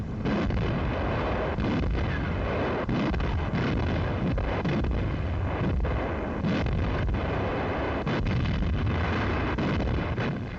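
Bombs hitting the ground in a 1944 air raid, a dense barrage of booming impacts and crackling blasts packed closely together over a constant rumble, loud and unbroken with no voices.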